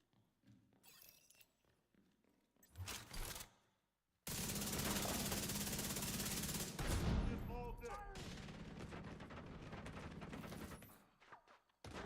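Rapid automatic gunfire in the shooter video game The Division 2, with scattered single shots early on and then a long, loud, dense burst of fire that fades toward the end.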